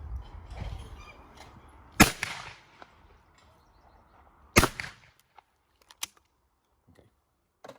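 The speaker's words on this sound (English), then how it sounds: "I've got my 2 hold points, and I'm looking to shoot 2 slow pullaways." Two shotgun shots crack out at clay pigeon targets on a trap range, sharp loud reports about two and a half seconds apart, followed by fainter distant pops and clicks.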